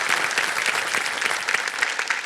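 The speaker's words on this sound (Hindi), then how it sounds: "बहुत जोर से ताली बज रही है आपके लिए जय जी" A studio audience on the quiz show Kaun Banega Crorepati gives a contestant continuous loud applause, dense steady clapping with no pauses throughout.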